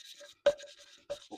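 Valve lapping on a Suzuki Bandit 1200 engine: a quiet, dry scratching grind from valve against seat, repeated in short strokes with two sharper scrapes partway through.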